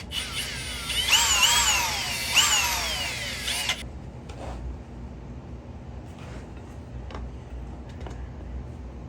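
A drill bit cuts into a crank seal on a 1974 Yamaha MT250 motorcycle with a loud, rising whine for about four seconds, then stops, leaving a few faint ticks and scrapes against a low background hum.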